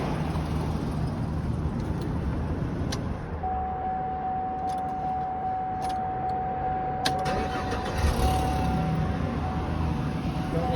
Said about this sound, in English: You have an exhaust leak on this side of your engine.